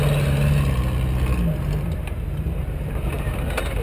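A Jeep rides off-road on a Texas lease, its engine a loud, steady roar that throbs close by throughout, with faint rattles over the top and no clear talk.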